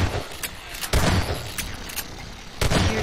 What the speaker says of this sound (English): I hear gunshots and explosions